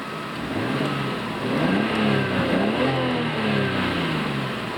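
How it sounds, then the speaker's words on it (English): A 1990 Nissan Skyline GT-R, a low-mileage one-owner US import, runs nearby with its engine idling smoothly and then revving up and down in a few rising and falling swells. "Another great thing is that the engine sounds lovely."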